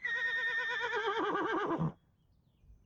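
A single loud horse whinny with a wavering, descending pitch lasting about two seconds, then it cuts off into near silence.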